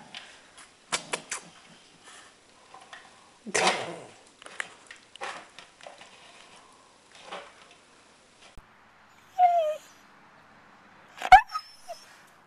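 A Siberian husky yips, barks and whimpers in scattered bursts, with high whiny squeals between shorter sharp calls and quiet gaps, close by indoors.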